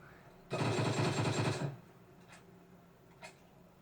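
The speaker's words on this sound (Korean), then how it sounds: "여러분 총소리가 아주 크네요" A loud burst of rapid automatic gunfire in PUBG lasting about a second, followed by a couple of fainter distant shots.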